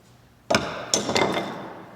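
Old oak dowel striking out the handle of a throwing axe: two or three sharp wooden knocks with short ringing decay, close and alone.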